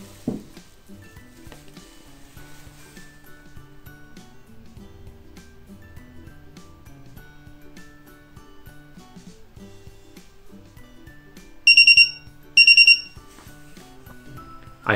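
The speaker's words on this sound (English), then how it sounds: "We could modify this code to make a sound which is much more similar to an alarm clock." Arduino-driven buzzer beeping an alarm-clock-style timer pattern: two short, piercing, loud bursts late in the clip over faint background hum and small clicks.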